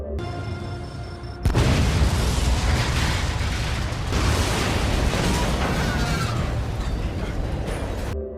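A bomb goes off in an elevator in the film Total Recall, a sudden loud blast after a low rumble that turns into a sustained roar of fire and debris, filling the whole stretch without talk.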